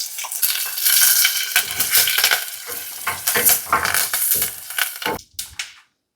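Two dried red chillies, curry leaves and turmeric powder crackle in hot oil as a tempering for a home-cooked Tamil buttermilk curry, a close, steady sizzle broken by spoon stirring and scraping that cuts off near the end with a few brief clatters, no one talking.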